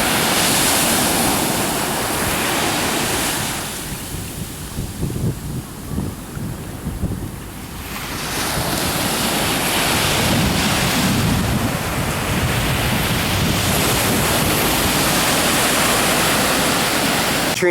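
Ocean waves and surf roll in along the Puerto Rico shore, a broad continuous wash with wind buffeting the microphone, easing briefly before surging back loud and close.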